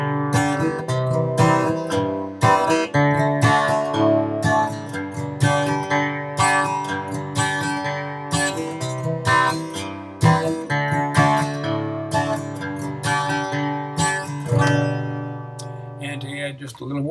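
Country-style acoustic guitar playing a chord sequence, each bar opening on a single bass note followed by quick upstroke strums, steady and up close with no voice for the whole stretch.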